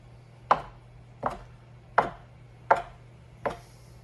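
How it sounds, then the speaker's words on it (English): A knife cuts gnocchi dough into pieces on a board with five crisp, evenly spaced chops, each a short dull knock, close and clear over a faint low hum. "cutting it into gnocchis."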